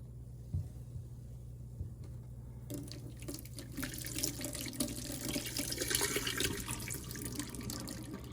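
A sink tap runs steadily while parts of an OSOTEK Horizon H200 wet dry vacuum are rinsed under it; a low hum sits under the water, and the splashing grows brighter and fuller partway through as the flow hits the parts.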